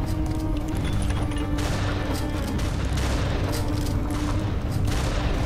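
Dense, continuous gunfire and booming explosions fill a battle in the Ravenfield video game, loud and overlapping with no pauses.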